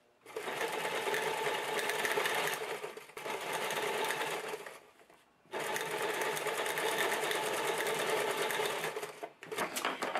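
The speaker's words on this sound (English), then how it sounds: "And you'll simply sew that." A sewing machine stitches an elastic waistband onto homemade pajama pants, running in loud, steady mechanical bursts with short pauses between runs.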